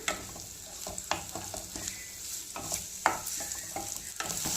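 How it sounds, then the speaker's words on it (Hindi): Onions sauté in a pan over a medium-high flame for Punjabi sarson ka saag: a steady sizzle broken by sharp scrapes and knocks of a spatula stirring, fairly close and with no voices. "अब प्याज को हम खूब अच्छे से इसके साथ सोटे कर लेते हैं।"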